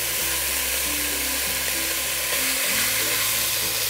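Fatty bacon fries in its own rendered fat with no added oil, producing a continuous close sizzle with faint stirring and a low hum beneath, no voices.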